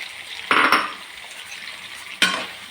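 Tomato and green chili sautéing in a pan while cooking small onion sambar, two sharp stirring scrapes and clinks against the pan over a faint sizzle, close and without talk.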